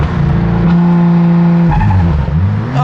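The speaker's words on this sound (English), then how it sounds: "So if I hold the clutch, slam on the gas." An Audi R8 with a manual gearbox revs hard with the clutch held as the gas is floored, a loud sustained engine drone climbing and shifting in pitch, close by, with no talking.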